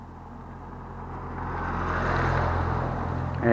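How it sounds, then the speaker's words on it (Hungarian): A car approaching on a narrow road along the Balaton Mária pilgrimage route between Csopak and Balatonalmádi, its engine rumble swelling steadily from faint to moderately loud, with no voices. "szemből jön valami autó, hogy be kell ide húzódjak"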